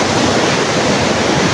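Strong ocean surf roars in a dense, continuous wash of breaking waves, loud and close, with wind buffeting the microphone.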